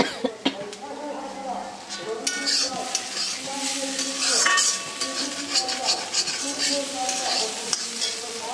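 Potatoes fry in a pan, with a sizzling hiss beneath clinking spoon-against-pan stirring and scraping, some sharp knocks, and someone talking over the cooking.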